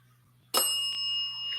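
A bell on a door in an old house rings once, a sharp bright ding that rings on with a clear sustained metallic tone over faint background hum.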